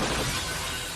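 Glass smashing and shattering from gunfire in the 1988 action film Die Hard, a dense, loud burst of breaking crash filling the full second with no talk over it.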